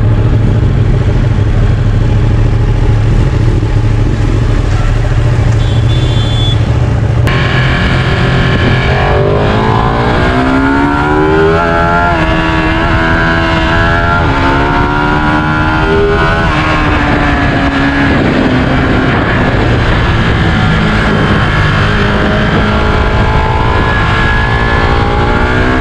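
Track-ready Kawasaki ZX10R and Ducati superbikes fitted with Akrapovic exhausts ride up close. Their engines roar loudly, rev and accelerate repeatedly with rising and falling pitch sweeps over a constant low rumble, and no one speaks.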